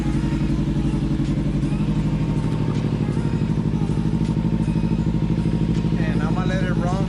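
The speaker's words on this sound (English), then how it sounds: "So I'm gonna turn on the bike." A Kawasaki Ninja motorcycle engine runs steadily at idle, a loud, close, continuous throbbing rumble with a fast regular pulse throughout.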